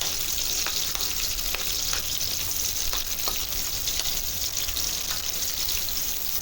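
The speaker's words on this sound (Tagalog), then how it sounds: "Gisa-gisa lang." Corned beef sautéing with onion and garlic in a pan makes a loud, constant hiss of frying, with a few soft ticks and scrapes from stirring scattered through and no one talking.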